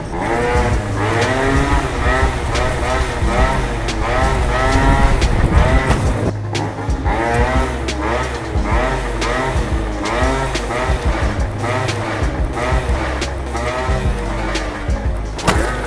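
Scooter wheel or deck scraping along pavement during a wheelie, giving a constant loud rough grinding roar with rhythmic clattering from start to finish, close up and without any talking over it.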